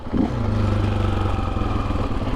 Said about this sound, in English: Engine braking kicks in.